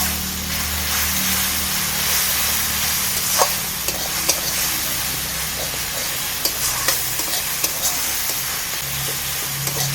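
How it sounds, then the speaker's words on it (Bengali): Gram flour batter stirred into a sizzling spice mixture in a pan for a raw banana fritter curry: a steady frying hiss runs throughout with light scraping strokes of a spoon and a few small clicks. "এবার এই মশলাতে আমি বেসন গোলা জলটা দিয়ে দিচ্ছি। সব কিছু ভালো করে আমি নেড়ে চেড়ে নিচ্ছি।"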